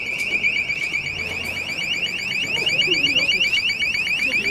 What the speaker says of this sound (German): waren jetzt wenigstens 6 Alarmeier bzw. Alarmanlagen mit Bewegungsmeldern, die vorher an die Wände geklebt wurden,